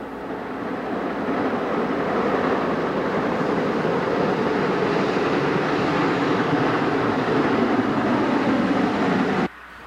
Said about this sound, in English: Their roster of Shay locomotives includes this one, Western Maryland Shay No. 6, the largest Shay in the world.